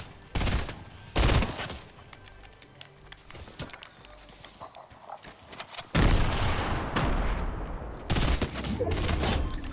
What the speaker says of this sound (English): Who are you shooting at? Wait, why are you shooting?